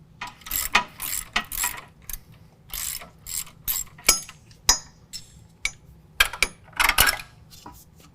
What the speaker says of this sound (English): remove the bolt from the bottom shock mount using 18mm on both sides